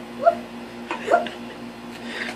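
A person imitates a puppy with a few short, high yips and whimpers over faint background hum.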